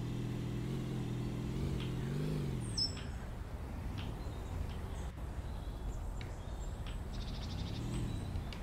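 Car engine from the video game Dinosaur Fossil Hunter, sounding more like a motorcycle: a steady low motor drone with a few rising and falling revs, running continuously at moderate volume.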